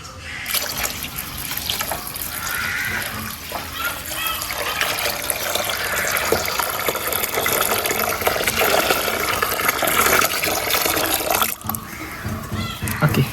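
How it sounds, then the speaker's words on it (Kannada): Three litres of water pour steadily into a jar for homemade grape wine, a continuous splashing stream filling it up, with a brief pause near the end. "ಈಗ ನಾವು ತ್ರೀ ಲೀಟರ್ಸ್ ಹಾಕ್ತಾ ಇದ್ದೇವೆ ನೀರು"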